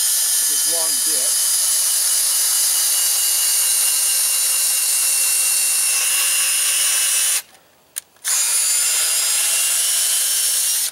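A power drill with a long bit bores a pilot hole through timber for a lag bolt while building a saw buck, a loud steady whine running nearly continuously with a brief stop near the end.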